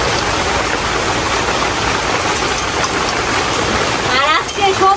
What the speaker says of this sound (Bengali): আর অনেক পরিমাণে বৃষ্টি হইতেছে, তারপরে অনেক বজ্রপাত হইতেছে।